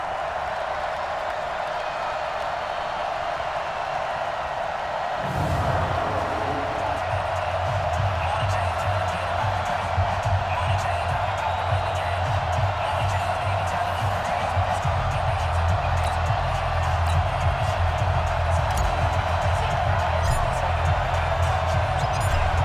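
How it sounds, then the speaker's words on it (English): Stadium crowd noise from a Madden NFL Pro Bowl game, a steady loud roar that swells after a few seconds and holds as continuous cheering under commentary-style talk. "The crowd is fired up"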